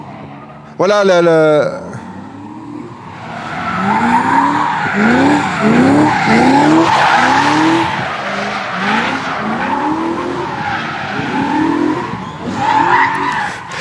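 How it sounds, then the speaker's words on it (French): V8 drift cars of up to 500 horsepower roar and rev repeatedly while tires squeal and skid in long rising sweeps at a drift event in Roche-la-Molière; a voice speaks briefly at the start. "on a des moteurs V8 qui grondonnent jusqu'à 500 chevaux"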